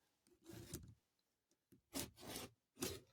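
A rotary cutter trims cotton quilt fabric for a heart quilt block, producing quiet rasping swipes: one longer stroke, then two more after a pause, close and soft with nothing else audible.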